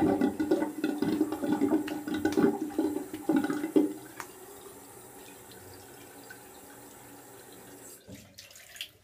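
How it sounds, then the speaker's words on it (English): Water from a tap splashes and sloshes as hands rinse a face at a sink after a shave, busy nearby splashing for about four seconds, then a quieter trickle, and a sharp clatter near the end. "I'll just rinse my face off."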